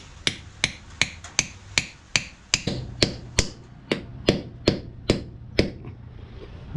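A hammer driving a nail into timber: about fourteen sharp, close strikes in a fairly even rhythm, each ringing briefly before the next blow, with no talk.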